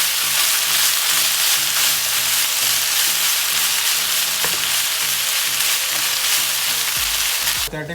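Chicken pieces fry until dark for shawarma, producing a loud, dense, continuous oil sizzle with faint stirring, close up, and a brief clunk near the end.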